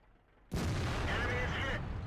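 A heavy tank gun in World of Tanks, fired from the British FV215b, booms and lands a hit. There is a sudden loud blast after half a second of quiet, then a sustained roaring burst that stays dense to the end.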